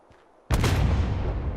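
An explosion in the motorcycle video game Ride to Hell: Retribution bursts in suddenly after near silence, a loud close boom whose rumbling roar lingers and slowly fades.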